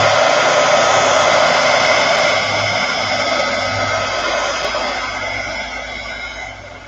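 A hair dryer blows on coffee-dyed paper, a loud steady close-up roar that runs unbroken throughout and eases off slightly toward the end.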